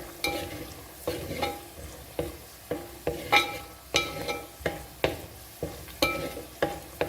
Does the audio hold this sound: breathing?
no